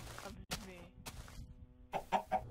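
Minecraft chicken clucks in game, three short clucks near the end following a stretch of people talking.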